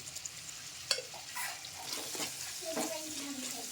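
Bottle gourd and tomato curry being stirred together in a pan: soft, fairly quiet scraping and stirring with a faint simmer, one sharper clack near the start, and no talking.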